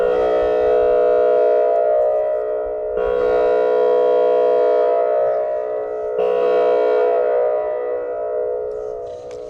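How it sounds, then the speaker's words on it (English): A loud warning siren near an Alabama fishing spot signals water being released, its steady wailing tone rising and holding in long repeated cycles, heard alone with no voices. "That was the alarm."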